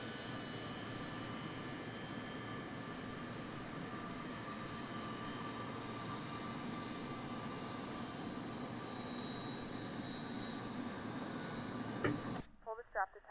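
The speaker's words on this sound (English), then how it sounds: "Don't forget that the engines of this aeroplane are all the way at the back of the aeroplane." Steady broadband roar of rear-mounted jet engines on an MD-80 airliner, heard from inside the cabin in a flight simulator game, droning evenly throughout before cutting off abruptly near the end.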